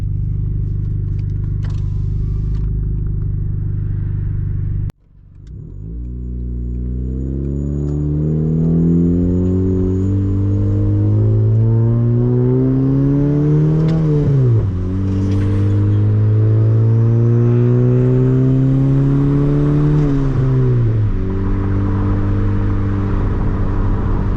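Turbocharged Honda Civic R18 engine with retarded timing revs loud and close in long rising and falling sweeps, after a sudden drop at the start, with occasional pops.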